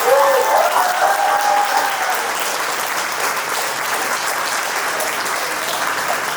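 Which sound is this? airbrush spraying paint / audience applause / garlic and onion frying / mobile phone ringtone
audience applause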